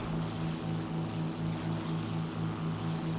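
Fw 190 D-9 propeller fighter engine in the War Thunder video game, a loud continuous droning roar with a steady pulsing throb, heard alone.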